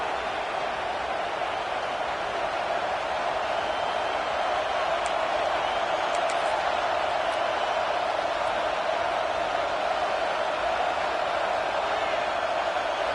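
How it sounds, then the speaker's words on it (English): A stadium crowd in a college football video game, Oregon against Florida on third down, roars in a steady, dense wall of cheering that holds at full volume for the whole stretch, with faint whistle-like tones on top. "This crowd unhinged, trying to make sure the Gators don't back down on third down."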